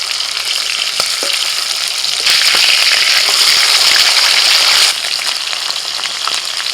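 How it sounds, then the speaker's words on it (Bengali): Pomfret fish fry in hot oil with a loud, steady sizzle that swells into a stronger, hissing burst for a few seconds before settling back to a constant crackle, close up and without talk. "তেল ভালো করে গরম করে নিয়ে দিয়ে দিচ্ছি পমফ্রেট মাছ।"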